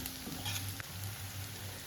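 Cumin, black pepper and other spices sizzling in a pan for chickpea curry, a faint, steady close crackle with a soft low hum underneath and a brief scrape partway through.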